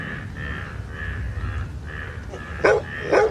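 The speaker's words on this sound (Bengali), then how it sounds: "হঠাৎ আমার পিছনে কুকুর ডেকে উঠল।" A dog barks twice, sharp and fairly close, near the end of a dark rainy-night scene, over a steady drone of crickets and frogs.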